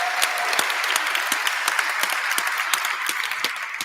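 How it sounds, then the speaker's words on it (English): Applause for a speaker at a talk on healing communities through movement, voice and dialogue, with distinct individual claps standing out sharply over a steady crowd wash, sustained throughout. "Dan a big applause"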